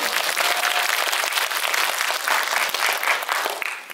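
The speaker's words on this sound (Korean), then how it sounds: "박수 한번" A film-screening audience breaks into loud, dense applause, many hands clapping continuously before thinning slightly at the end.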